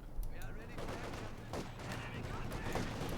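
Rapid bursts of MG42 machine gun fire ring out in a Company of Heroes 2 battle, a fairly steady rattle of shots mixed with wider combat noise that continues through the clip.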